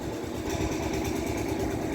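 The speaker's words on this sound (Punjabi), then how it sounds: "ਬਾਕੀ ਖੜਕਾ ਬਹੁਤ ਜ਼ਿਆਦਾ ਹੁੰਦਾ ਕਿਉਂਕਿ ਉਧਰ ਇੰਜਣ ਚੱਲਦਾ ਹੈ" A nearby engine runs steadily with a low, even chugging throb that carries on without a break.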